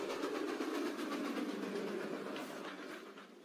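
A moving train rumbles along as a story sound effect, its steady rolling clatter carrying a faint rhythmic beat that slowly fades toward the end. No one speaks.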